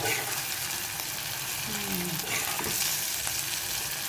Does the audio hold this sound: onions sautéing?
yes